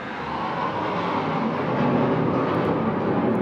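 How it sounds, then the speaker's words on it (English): A jet aircraft passes overhead, a steady broadband roar that stays loud for the whole stretch, heard alone outdoors. "Don't know if you can hear that jet that's just gone over."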